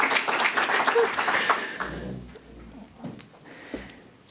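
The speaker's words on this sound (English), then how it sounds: "Please join me in welcoming Professor Ugur with a warm applause." Audience applause welcoming a professor onto the stage at an academic lecture: a dense, loud wash of clapping for about two seconds that quickly thins out into a quiet room.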